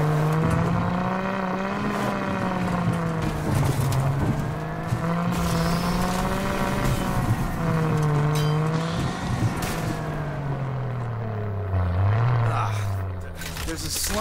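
A vehicle driven in the video game Rage 2 gives a steady, loud engine drone that rises and falls in pitch as it speeds up and eases off. It runs without a break for the whole stretch.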